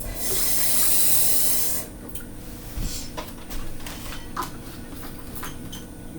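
Water runs from a tap in a steady hiss for a couple of seconds while drop biscuit batter is being made, then stops, leaving soft kitchen clatter and faint stirring noises.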